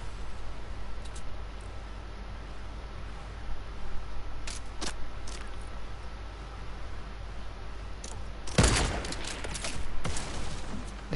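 Sniper rifle fire in the Fortnite video game: scattered sharp clicks, then one loud, close crack with a short, noisy tail, over a constant low game hum.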